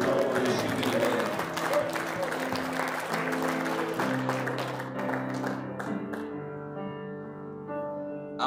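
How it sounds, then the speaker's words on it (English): A Baptist church congregation claps in praise during a Sunday morning service, sustained applause beneath organ or keyboard chords that holds steady before easing off as the music carries on. "Give him another hand clap of praise while we're seated again"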